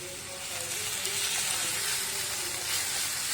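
Onions with ginger garlic paste frying in a pan give a steady, moderately loud sizzle and hiss that holds evenly throughout and cuts off abruptly at the end, with no voices.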